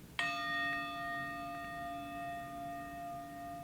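A single bell is struck once during a yoga practice, a bright sustained ring that decays slowly over several seconds against a quiet room.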